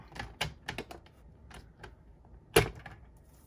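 A paper trimmer's scoring blade slides through a sheet of paper in its cutting track while assembling a folded card kit, giving a series of light, quick scraping ticks followed by one sharper, louder snap near the end, close and alone.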